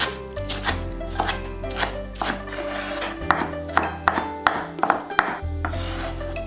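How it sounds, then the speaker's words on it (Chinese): A kitchen knife chops scallions and ginger into fine bits on a cutting board, giving steady rapid knocks close by and alone, with a brief pause partway through. "切点葱末和姜末"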